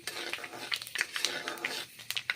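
Panch phoron seeds fry in hot mustard oil with a bay leaf, giving a dense, steady crackle of rapid popping and spitting, close and fairly quiet, with small clinks of a utensil.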